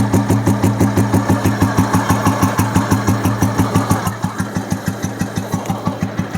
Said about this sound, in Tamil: இன்ஜினோட பீட்டு